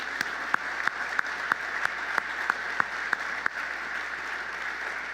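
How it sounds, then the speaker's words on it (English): An audience at an economic development organization's annual meeting claps for staff teammates, a steady, moderately loud round of applause with sharper individual claps standing out at a regular pace throughout. "Could we give a round of applause for them?"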